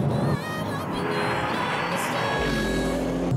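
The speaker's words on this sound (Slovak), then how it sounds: "Toto auto má neuveriteľný zvukový register, čokoľvek robíte, proste to strieľa, odfukuje si, praská, stačí uvoľniť plyn a púšťa to kopec muziky." Audi RS6 engine at full throttle, loud and close, with a steady roar and crackling pops from the exhaust when the throttle is lifted.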